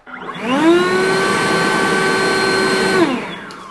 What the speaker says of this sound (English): Here's what it sounds like in turbo mode.